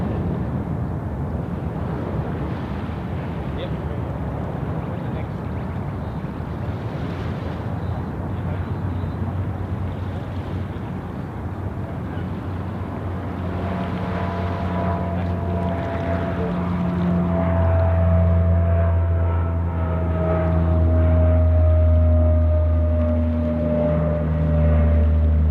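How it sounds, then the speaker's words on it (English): A Dash 8-200 turboprop airliner takes off at an airport, a distant rumble that swells into a louder droning hum with rising propeller tones over the second half, heard from far off with a faint voice at times. "the Dash 8-200 now, I think, is cleared for takeoff"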